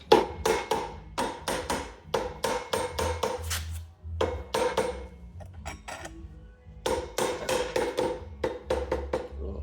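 A hub is tapped onto the rear drum of a Honda Rancher 420 ATV in quick rhythmic bursts of sharp, close metallic knocks, with short pauses between the runs.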